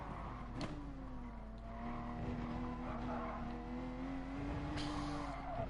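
Gran Turismo GR3 race car at Spa, engine droning at high revs while the tires skid and squeal through a corner, loud and continuous with a sharp scrub near the start and again near the end.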